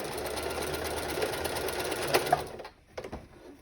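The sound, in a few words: sewing machine stitching a tote bag, reverse stitch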